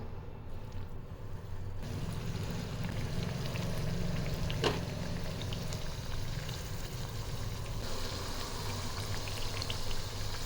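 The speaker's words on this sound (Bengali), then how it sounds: "তিনটে পিঠে ভাজার মতন জায়গা হয়ে গেছে তাই তিনটেই দিলাম আস্তে আস্তে অন্যগুলো পরে ভেজে নেব" Sweet potato fritters frying in hot oil in a wok, a continuous close bubbling sizzle with a few soft spatters, no voices.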